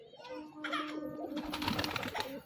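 Pigeons coo close by, with soft burbling calls mixed with other bird chatter and low babbling voices in the background.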